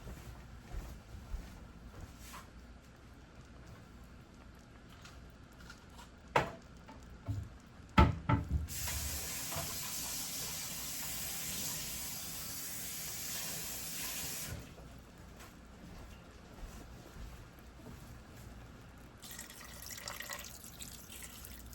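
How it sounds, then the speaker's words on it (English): Water goes into a hot pan of pepper steak: a few clanks, then a loud hissing sizzle that lasts about six seconds before settling to faint bubbling. "Now we're gonna add a little water."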